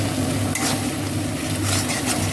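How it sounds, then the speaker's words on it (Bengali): Ground cashew, poppy seed and melon seed paste with green chilli is stirred in a frying pan for raw banana kofta, a steady close sizzle with soft scraping strokes throughout. "পিষে রেখেছিলাম কাজু, পোস্ত, চাল মগজ, সেগুলো আমি দিয়ে আবার একটু নেড়ে নেবো।"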